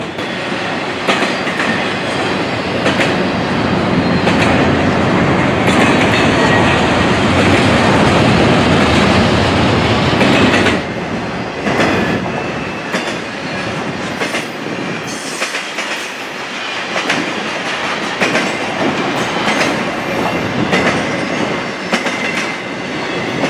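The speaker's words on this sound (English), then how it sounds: "this Norfolk Southern westbound intermodal train was right there" A Norfolk Southern westbound intermodal freight train rolls past close by, a loud, steady roar of wheels and railcars with clickety-clack rhythm and some wheel squeal, easing slightly after about ten seconds but continuing throughout.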